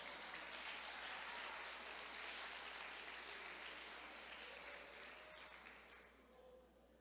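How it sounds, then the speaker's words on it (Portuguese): A church congregation applauding, broad steady clapping that gradually thins and fades toward the end, heard at a moderate distance. "Aplaude que foi bom."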